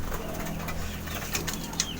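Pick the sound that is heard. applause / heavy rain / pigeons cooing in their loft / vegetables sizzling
pigeons cooing in their loft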